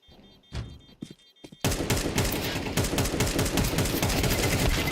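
Automatic AK rifle fire in Counter-Strike 2 during a competitive match, a couple of isolated shots followed by sustained rapid bursts, loud and dense.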